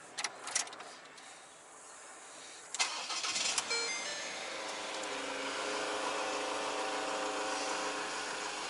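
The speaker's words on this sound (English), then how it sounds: "Let's start it." A Ford Ranger engine cranks with a few clicks and catches, then settles into a steady, fairly quiet idle.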